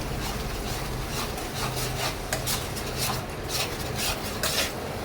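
A spice paste for an egg dish is stirred and fried in a pan, giving a steady close scraping and rubbing of a utensil against the pan over a continuous sizzle.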